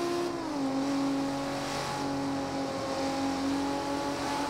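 A Nissan Skyline GT-R engine in the Forza Horizon racing game drones steadily and loudly. The tone is high and raspy, and its pitch dips slightly near the start before holding constant with no talking.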